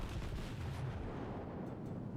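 A battleship's heavy guns fire in World of Warships, one deep booming blast that rolls out and fades over a couple of seconds, loud and close, with no voices.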